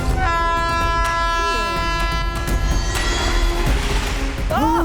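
A train approaching on a railway track, a loud rumble with a sustained horn blast and rising whistle tones, close and dominant throughout.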